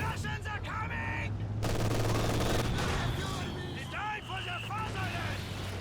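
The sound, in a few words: 222 armoured car gunfire in a strategy video game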